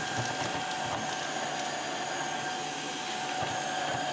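A Tineco Floor One Stretch S6 wet-dry vacuum runs steadily on a floor while picking up cat food, a constant whirring roar with faint rattles and clicks from the debris.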